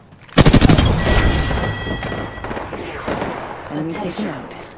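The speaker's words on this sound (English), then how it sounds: "Shot fired, and they're hitting me" Apex Legends gunfire opening with a loud burst of rapid automatic shots, followed by continued shooting and impacts, with a voice speaking near the end.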